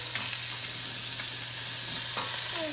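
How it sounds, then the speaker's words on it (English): Fish fries in a pan with a constant, close hiss of sizzling oil and occasional small pops and stirring noises, with no one talking. "the sizzling might pop and it might burn you"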